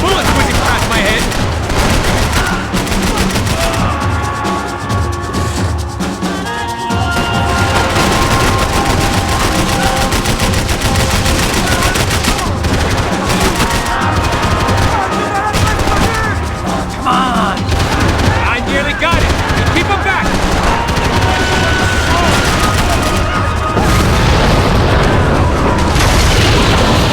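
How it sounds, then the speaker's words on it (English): Heavy gunfire from a Max Payne 3 firefight, with loud booming shots and rapid bursts sounding continuously for the whole stretch, bullets whizzing close amid the dense, chaotic barrage and some voices underneath. "I can't concentrate with bullets whizzing past my head."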